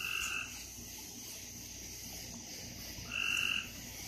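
Little tree frogs croaking near a pond: two short, bright croaking bursts, one at the start and one near the end, over a steady low outdoor background.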